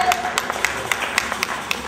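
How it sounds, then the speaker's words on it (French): An audience at a cultural evening gives sparse, light applause, scattered individual claps popping at an uneven rhythm over a soft room murmur. "On peut applaudir ça au moins"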